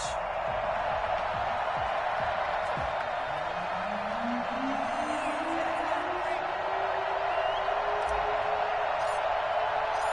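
In an EA Sports NFL football video game, a stadium crowd roars steadily as the New Orleans Saints and Arizona Cardinals line up, a dense continuous cheer heard under a commentator's talk.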